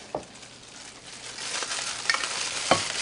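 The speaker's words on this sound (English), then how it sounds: "I'm mixing in my wet ingredients into the dry here" Wet ingredients get stirred into dry for almond flour and whole wheat lemon blueberry doughnut batter, soft scraping and swishing strokes with a couple of sharper clinks against the bowl, close and quiet.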